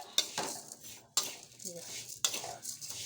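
Vermicelli roasted in a pan for upma, with three sharp metal spoon scrapes against the pan between softer stirring sounds, close and moderately loud, and no clear talking.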